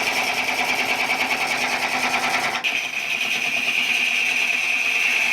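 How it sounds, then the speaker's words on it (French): Wood lathe spinning a piece of green holly, giving a steady, loud whirring hum with a continuous high ringing tone that shifts briefly partway through and then carries on unbroken. "maintenant on va le passer au tour"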